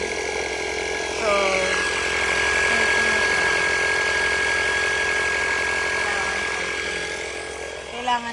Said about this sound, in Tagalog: Buti na lang mayroon akong compressor.